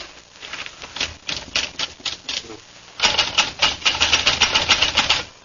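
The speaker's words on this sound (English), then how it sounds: "give me a typewriter and I'll go to work" A typewriter clacks in a radio drama, bursts of quick, crisp keystrokes in uneven runs with a short pause before a denser, louder flurry of typing.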